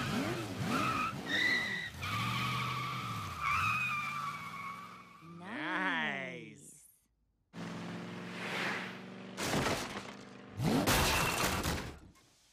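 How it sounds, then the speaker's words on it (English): A cartoon bumper car skids with long, wavering tire squeals and then crashes in several sharp, loud bursts, with brief silent gaps between them. "My bumper car's not working."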